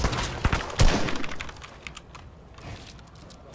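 Fast, loud typing on a computer keyboard during a Fortnite match, clusters of sharp key clacks near the microphone mixed with faint game gunfire in the background.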